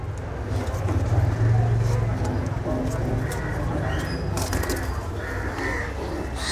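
Madrasi flying pigeons cooing low and steady with occasional wing flaps, close by, under a constant rumble of nearby traffic and outdoor background noise.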